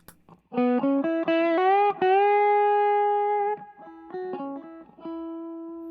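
Distorted electric guitar through a switched-on Xotic Effects pedal, with middle and rear pickups and noise cancelling, plays a short phrase of picked and sustained notes, rising and bending before settling on a long held tone, then a few more notes.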